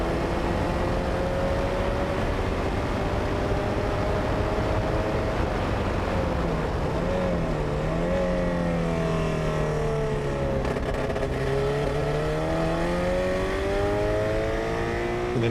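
A historic Formula Ford race car engine at a test day drones loud and close throughout, its pitch dipping and rising through gear changes and revving, with no talk over it.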